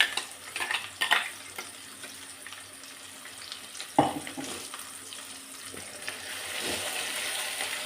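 Brinjal and tomato chutney being added to tempering oil with curry leaves and turmeric, giving soft sizzling and stirring scrapes with a sharp clatter midway, fairly quiet overall.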